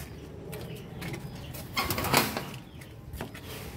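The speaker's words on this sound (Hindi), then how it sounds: "कबूतर खोल रहा हूँ।" A burst of pigeon wings flapping close by as the birds are released, loudest midway, with soft rustling before and after and faint bird sounds outdoors.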